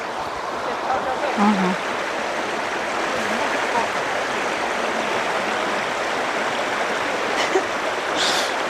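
Runoff water rushes and gurgles continuously along a washed-out road, a steady, fairly loud stream flow with faint voices now and then.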